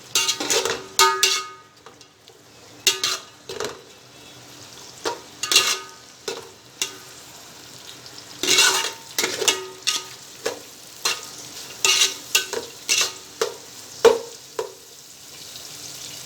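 Onions and green chillies fry in a pan, with frequent scraping stirs and clinks of a spoon against metal over a low, steady sizzle, close and without talk.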